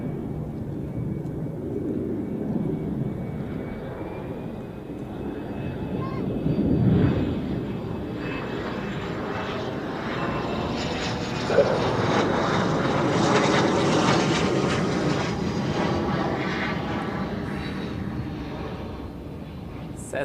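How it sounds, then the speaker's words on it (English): A small Cessna Citation business jet passing at Zurich Airport: a steady, loud engine roar that swells toward the middle and holds, with a voice briefly heard. "Cessna Citation, I'd say."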